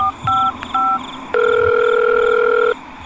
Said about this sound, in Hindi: अब कॉल करती हूँ उनको।